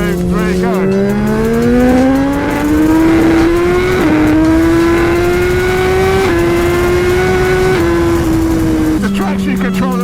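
Motorcycle with a test exhaust accelerating hard on an early-season ride, loud engine note climbing steadily through gears for several seconds, close and continuous, with brief shifts in pitch.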